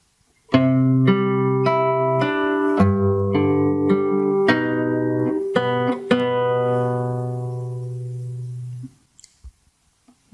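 A fingerstyle acoustic guitar phrase, a string of plucked notes and chords ringing into one another for about eight seconds before fading, followed by a few faint clicks.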